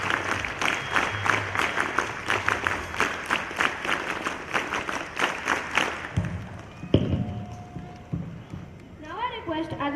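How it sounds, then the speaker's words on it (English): Audience clapping for the top-ranking students at a school Independence Day celebration: dense, steady applause for about six seconds, then it thins out and gives way to a quieter room with some stray noises. "Let's give them a VVP clap."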